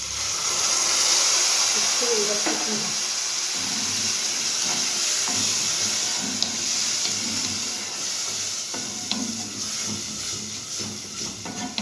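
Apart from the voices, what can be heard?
water added to toasted vermicelli sizzling in pan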